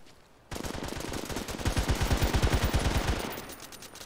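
Rapid automatic gunfire from the shooter game H-Hour: World's Elite, crossroads confrontation map, with loud close bursts of shots starting abruptly after a short quiet lead-in, then a steady rattling stretch that thins out near the end.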